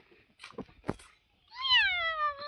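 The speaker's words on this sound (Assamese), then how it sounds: "কি কৰিছে মেকুৰীজনী কি কৰিছে" A cat outdoors gives a single clear, drawn-out meow, close and fairly loud, after a few faint, brief sounds.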